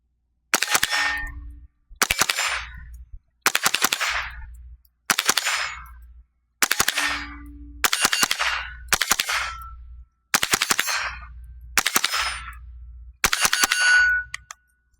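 Ten .22LR rifle shots from a CMMG rifle, fired at a range alternately with and without a suppressor, evenly spaced sharp cracks each followed by a short decaying ring, loud and alone with no talk.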